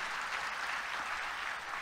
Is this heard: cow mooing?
no